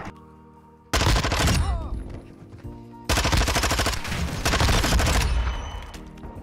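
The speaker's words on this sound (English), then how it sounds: "I would not have won that gunfight if it weren't for that mount" Vaznev SMG gunfire in a video game gunfight, loud rapid automatic bursts in two long stretches separated by a brief lull, with other game sounds beneath.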